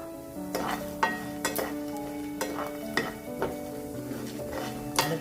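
Pepper, fennel, cumin, onion and garlic roasting in a pan for Chettinad fish curry, a continuous sizzle with repeated spoon scrapes and clanks against the metal pan at an uneven rhythm, close by.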